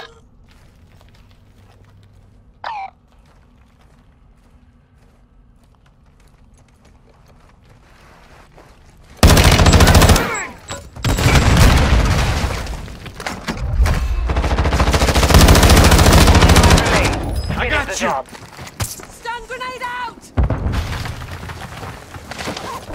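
A custom weapon fires in the battle royale game Call of Duty Warzone Resurgence on Ashika Island. Near silence gives way to loud, close bursts of rapid gunfire with a few pauses between volleys.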